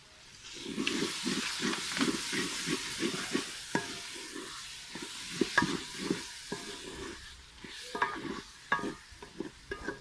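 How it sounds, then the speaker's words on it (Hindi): Fresh fenugreek (methi) leaves fry in a pan for aloo methi, giving a steady sizzle broken by rhythmic stirring scrapes and clanks of the spoon, heard close up without talking. "इसको पहले भून लेंगे थोड़ा, उसके बाद आलू डालेंगे।"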